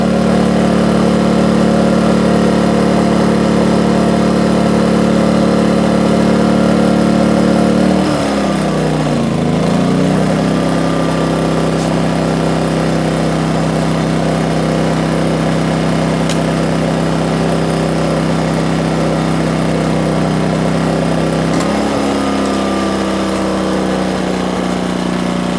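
A generator engine idles with a loud, steady droning hum, its pitch dipping and shifting around the eight-second mark and again near twenty-two seconds as the load changes, with no talking.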